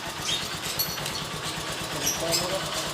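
Motor Star 175cc motorcycle engine, newly converted to a 155 carburetor with a leaner airbox, runs at a steady idle-like drone with a buzzy high-frequency edge, close up, while people talk over it throughout.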